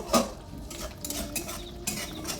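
A spoon scrapes and clinks against a pan while stirring an eggplant and gram-flour curry topped with chopped coriander, several close metallic knocks over a light sizzle.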